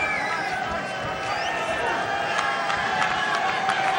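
Crowd at a 1984 New York state high school wrestling finals, 119-pound bout, roaring and cheering steadily throughout a physical match, with a commentator talking over the noise.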